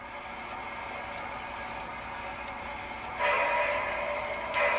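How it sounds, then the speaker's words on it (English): Single-phase air compressor effect from a Tsunami2 steam sound decoder, a steady hissing chuff-like mechanical noise that holds even, then swells louder near the end with a brief dip and return; no voices. "So you can hear a different air compressor there"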